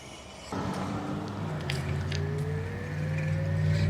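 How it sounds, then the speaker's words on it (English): A Viribus Trio Plus electric tricycle, partly assembled with a dual chain drive, starts off on a short test ride: a steady motor whine rises in pitch as it picks up speed, with light rattles over a low rumble. "We're gonna try a little quick ride here, see what happens."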